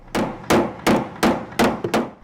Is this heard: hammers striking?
yes